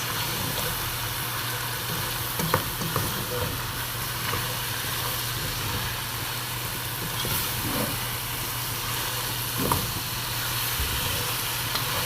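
Macaroni with vegetables and masala stirred in a pan, a faint steady sizzle under a low continuous hum, with only occasional soft clicks from the utensil.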